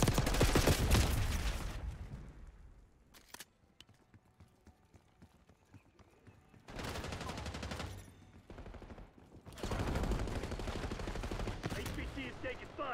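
Gunfire in Black Ops 6 comes in rapid automatic bursts with clattering shots, loud stretches split by quieter gaps of scattered pops and clicks.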